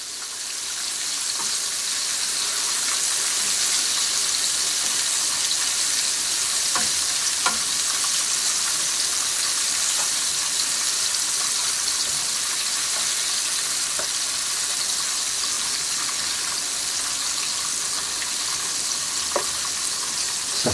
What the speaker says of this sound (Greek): Θα χαμηλώσω τη φωτιά και θα τους τηγανίσω για άλλα 7 με 8 λεπτά